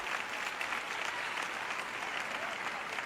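A church audience applauding and cheering at a French-language Christian ministry event, a dense steady wash of clapping filling the room throughout.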